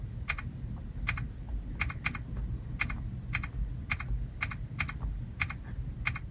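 Kia EV6 infotainment touchscreen giving soft synthetic tick sounds as a navigation destination is typed, about a dozen crisp taps in irregular rhythm over a low cabin hum, close and fairly quiet, with no talking.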